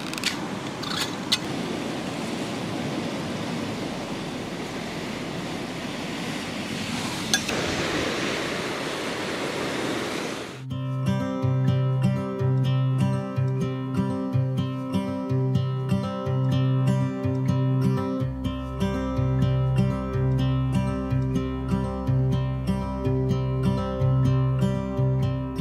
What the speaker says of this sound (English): some waves splashing up against the rocks there